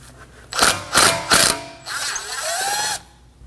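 Three short bursts of a power driver or ratchet loosening a No. 3 Phillips screw that holds the brake rotor to the hub on a 2016-2022 Honda Pilot, then a longer whirring spin as the screw backs out, close and loud.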